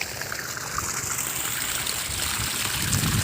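Water flowing from the delivery pipe of an 800W BLDC motor pump, a steady hissing gush and trickle that holds continuously and grows slightly louder toward the end, with no voices.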